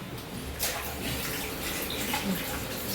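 Tap water runs steadily in a flat's bathroom, a continuous broadband splashing rush filling a bucket, with no one talking over it.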